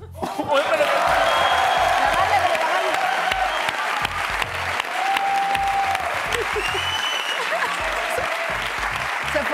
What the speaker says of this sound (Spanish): pido un aplauso para